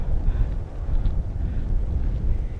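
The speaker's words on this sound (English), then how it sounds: "That side of the mountain is so windy" Strong wind gusting across a snowy mountainside at night during a blizzard, a steady low roar buffeting the microphone with no voices.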